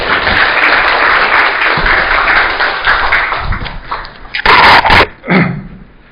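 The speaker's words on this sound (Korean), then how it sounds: "힘찬 박수로 맞이해주십니다" Lecture hall audience at Sejong University applauding to welcome a guest lecturer, steady loud clapping that thins out near the end, with a few sharp louder claps and bumps breaking through.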